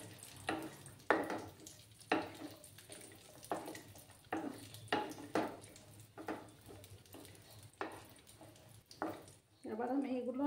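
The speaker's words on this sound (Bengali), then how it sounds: "সামান্য একটু ফ্রাই করে নেব।" Raisins and cashews fry in oil in a wok over low gas flame, with a soft sizzle broken by repeated scraping stirs, faint and close, ending in a brief clatter.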